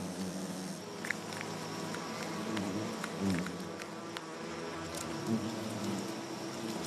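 Giant hornets buzzing around their nest on a wooded hillside, a faint steady insect drone with scattered nearer passes and soft ticks, no voices.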